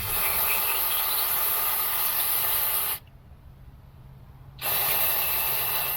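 Aerosol spray can hissing steadily into a part removed from a Ford EcoBoost engine, a loud continuous spray that stops for about a second and a half, then resumes.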